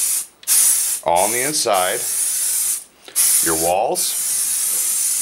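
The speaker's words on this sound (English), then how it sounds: "It is a mold release. You get it from Reynolds. And we spray this" An aerosol mold release is sprayed in hissing bursts into a silicone mold and over a sculpture, two long sprays separated by short pauses, with someone talking in between.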